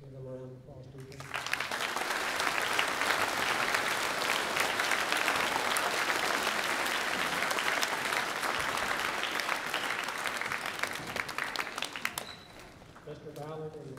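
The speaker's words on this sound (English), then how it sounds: "Let's give them a round of applause to you." A crowd at a school Veterans Day program breaks into sustained applause for a band that swells and holds for several seconds before fading, with a voice speaking briefly at the start and end.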